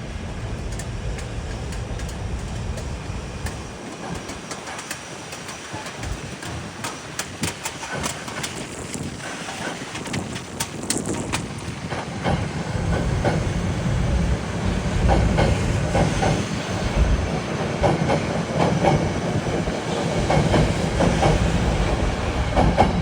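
A Metro-North commuter train rolls past on track 4 in New York City, a close, steady rumble with rhythmic clickety-clack from the wheels and faint hiss that grows louder toward the end.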